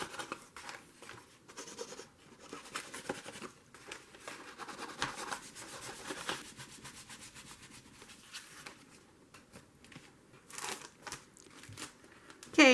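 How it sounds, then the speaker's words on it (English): Close, soft dry rubbing as Distress Oxide ink in Vintage Photo is worked onto paper edges, with irregular scuffing strokes and faint paper crinkles, quiet throughout. "I'm going to use some of this Distress Oxide Vintage Photo and just rub it on"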